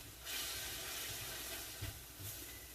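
Balsamic vinegar and about two teaspoons of honey hitting a hot pan, giving a steady close broadband sizzle that holds for nearly three seconds with a brief pop near the end.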